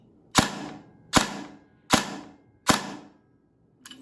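A Systema Infinity airsoft electric gun fires on an 11.1 V LiPo battery: four evenly spaced, sharp snapping shots about three-quarters of a second apart, with a faint click after them, close and clear with no talking.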